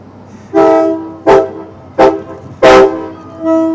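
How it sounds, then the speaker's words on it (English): A loud train horn blasts in four bursts at a Fourth of July parade, short toots followed by a longer one, with a rumbling engine beneath. "That's a train horn, isn't it?"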